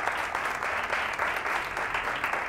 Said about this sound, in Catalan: Un aplaudiment per ells, sisplau.